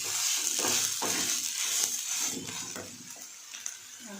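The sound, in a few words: onion and beetroot frying and being stirred in pan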